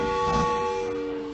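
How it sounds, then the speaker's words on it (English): Cartoon steam train running in a Peppa Pig episode, a steady tonal whistle-like hum with a soft rumbling chug underneath, fairly loud and slowly fading. "There you are again, Miss Rabbit, driving the train."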